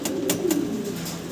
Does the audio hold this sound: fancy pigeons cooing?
yes